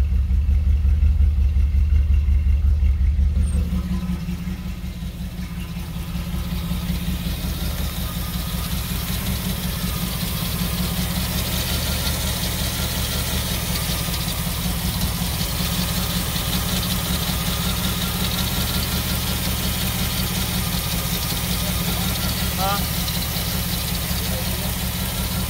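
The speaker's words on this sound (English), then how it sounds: "Alright, so we're idling" A car engine idles steadily at about 500 rpm after a timing chain replacement, a constant low rumble with a louder opening few seconds, continuing unbroken throughout.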